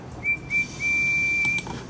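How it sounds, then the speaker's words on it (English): A steam engine whistle for Percy from Thomas and Friends gives one clear steady high toot of about a second and a half, heard alone after two short puffs. "He whistled hello to Arry and Bert."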